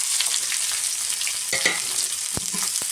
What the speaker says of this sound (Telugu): ఇవి బాగా గోల్డ్ కలర్ వచ్చేంత వరకు వేయించుకోవాలి